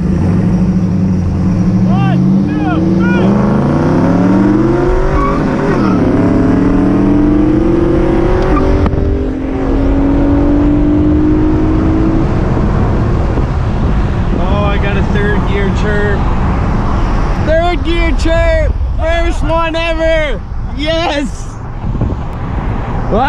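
A car accelerates hard in a street race, the engine note climbing through several gear changes with wind noise around it, while people talk inside over the engine toward the end.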